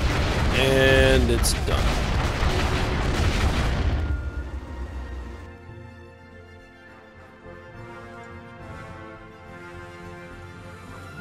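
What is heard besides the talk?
concussion missiles hitting ships in Stellaris video game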